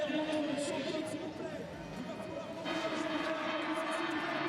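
A crowd at a women's World Cup ski slalom in Courchevel, France, keeps up a broad, steady roar of cheering and chatter from the finish area, swelling slightly partway through.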